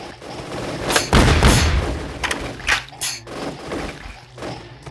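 A shotgun fires in the zombie shooter Shambles, several loud booming blasts at irregular intervals, the strongest near the start, each trailing into short rumbling echoes.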